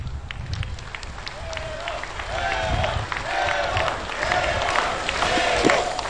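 A crowd gathered at an airport inauguration in Santa Cruz applauds and cheers, a dense roar of clapping with voices mixed in, loud and sustained, while a public-address voice carries over it.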